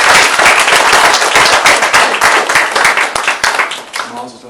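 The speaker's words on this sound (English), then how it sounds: "these ladies need a nice round of applause from everybody that's here" Audience applause at an adult b'nai mitzvah service, dense clapping filling the room loudly and steadily, thinning slightly toward the end.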